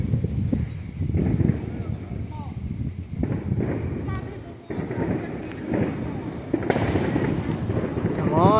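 Fourth of July fireworks bursting in repeated booms and crackles over an outdoor crowd, with people talking and calling out throughout.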